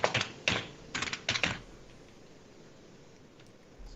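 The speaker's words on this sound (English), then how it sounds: "So if I have to type my SSH password here." A password typed on a computer keyboard, heard as a quick close run of key clicks in small clusters over about a second and a half, then near silence.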